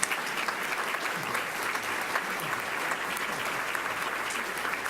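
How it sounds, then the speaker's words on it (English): Room audience at an Ohio opioid crisis panel gives the panelists a round of applause, a dense, even, moderately distant clapping that continues throughout. "Let's give them a round of applause."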